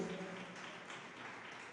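A church congregation at a JMCIM service in San Carlos City, Pangasinan claps together in a continuous, fairly distant wash of applause, without voices.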